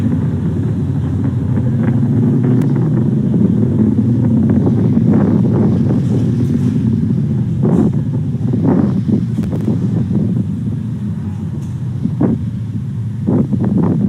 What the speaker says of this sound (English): the 9 Merlin 1D engines going back to full power